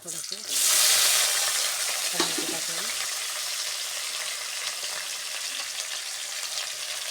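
Curry leaves drop into hot oil for a dry cauliflower dish, bursting into a loud, close hiss that settles into a steady sizzle, with a brief clatter of stirring partway through.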